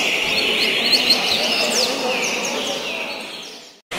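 A coleiro songbird at a bird-singing tournament in Nova Friburgo, Rio de Janeiro, gives a run of quick, sharp, high chirps and falling whistled calls, as if imitating a hawk, over a steady background hiss; the sound cuts off briefly near the end.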